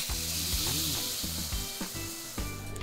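White wine poured into a hot pan of sizzling rice, garlic and onion for mushroom risotto produces a sharp steady hiss with bursts of bubbling and stirring.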